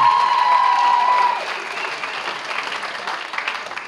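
Audience applause for contestants on stage at a high school ball, loud and dense clapping from a crowd, with a whistle or tone at the start, then settling into steady applause.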